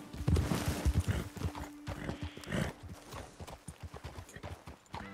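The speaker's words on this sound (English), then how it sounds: "Best leave the horses back a bit." Horse hooves clip-clopping on a trail in Red Dead Redemption 2, steady close hoofbeats from more than one mount, with a brief whinny near the start and low game ambience underneath.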